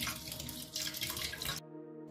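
Water runs from a kitchen tap over fish being washed, splashing steadily for about a second and a half before it cuts off abruptly.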